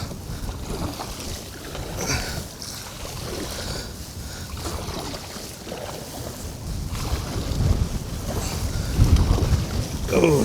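Strong wind buffets the microphone while a fishing kayak is pedaled on open water, a constant rushing roar with low gusty rumbles that swell louder toward the end, and no talk.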